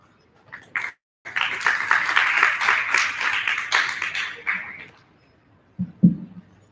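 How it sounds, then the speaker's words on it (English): Audience applause after a debate on online anonymity at a student knowledge event, with a short burst of claps, then a sustained dense round lasting about three seconds that fades out, followed by a brief low voice near the end. "please give them another round of applause"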